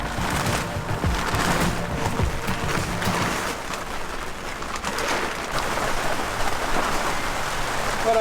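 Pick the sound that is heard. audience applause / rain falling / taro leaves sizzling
rain falling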